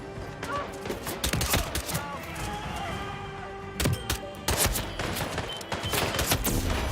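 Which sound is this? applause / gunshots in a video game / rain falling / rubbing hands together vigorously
gunshots in a video game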